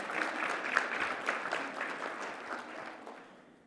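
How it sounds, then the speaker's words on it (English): Audience at a healthcare conference applauding, many hands clapping in a lively, moderately distant patter that gradually fades toward the end. "we have to give ourselves a round of applause"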